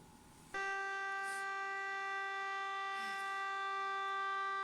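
A fire station civil defense siren sounds its monthly test, starting abruptly and then holding a steady, loud, tonal wail that carries on unbroken for several seconds.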